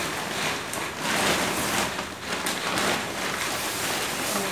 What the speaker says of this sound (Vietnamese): Sài Gòn rất là mưa này.